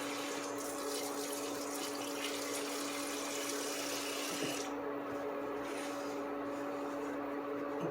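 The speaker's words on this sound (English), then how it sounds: "let me just rinse this off real quick" A fork is rinsed under a running kitchen tap, giving a steady close rush of water that thins out and quietens about halfway through, with no talking.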